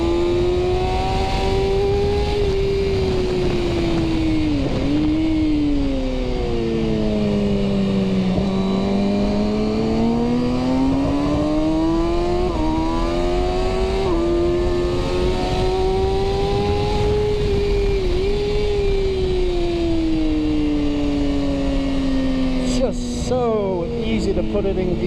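A 2019 Kawasaki ZX6R fitted with a quick shifter roars close and loud, its engine note climbing and dipping through rapid, clipped gear changes in one continuous run of acceleration.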